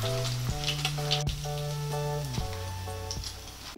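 Banana blossom omelette (torta) frying in a pan, giving a steady, close sizzle under louder tonal background music.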